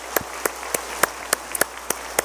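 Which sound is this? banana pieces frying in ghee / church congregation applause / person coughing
church congregation applause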